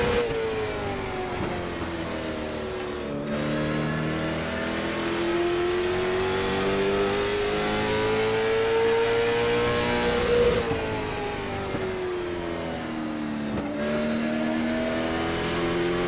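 Race car engine in the iRacing sim, droning continuously with rising and falling revs through gear changes, steady and loud with no talking.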